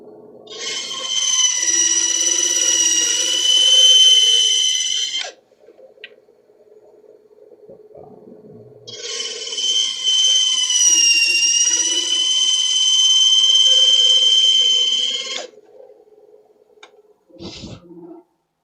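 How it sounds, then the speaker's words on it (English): A bandsaw whines loudly through wood pieces in two long sustained cuts, each a few seconds of steady high-pitched blade noise, with quieter machine hum in between and a short clunk at the end. "I'm over at the bandsaw. I'm not going to reconfigure the cameras for this, but I'm just cutting the pieces."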